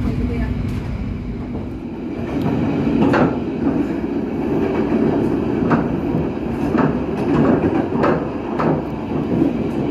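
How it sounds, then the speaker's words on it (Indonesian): Passenger train rolling into Surabaya Gubeng railway station on the Argo Wilis service from Bandung, a steady low rumble with repeated rail clicks and clunks at moderate volume, with faint talk in the background. "selamat datang di stasiun Surabaya Gubeng"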